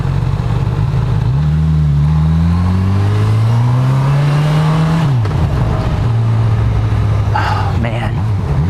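A 2018 Honda CB1000R motorcycle on the road, its engine droning loudly and rising and falling in pitch through gear changes and throttle shifts.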